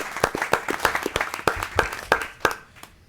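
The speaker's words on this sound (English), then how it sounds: "So a round of applause to Mr. Vasallo." Scattered, distinct handclaps ring out at a city council meeting for a retiring city employee, a thin round of applause that tapers off.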